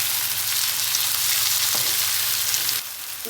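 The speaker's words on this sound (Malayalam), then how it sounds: "നന്നായിട്ട് ഇളക്കുക." Onions and tomato fry in a pan with a steady, close sizzle while a spoon stirs through them, the crackle dropping slightly in level near the end; no one speaks.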